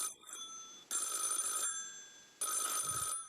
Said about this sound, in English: Let it ring, let it go on ringing.